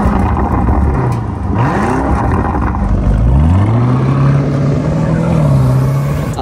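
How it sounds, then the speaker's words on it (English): A Lamborghini's exhaust roars loud and close as the engine revs, its pitch climbing and then holding high over a steady growl, with no voices. "get an exhaust clip. We better hear this thing."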